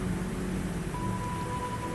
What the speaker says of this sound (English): gods have decided to make it rain. And it's only a light drizzle